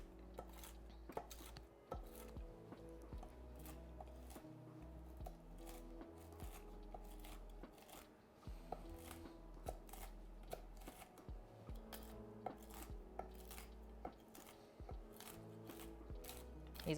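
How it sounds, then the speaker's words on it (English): Almonds chopped for a salad, a busy run of close knife taps and crunches on a board with faint dish clatter, steady throughout with no voices. "Just the sound of chopping them is so satisfying."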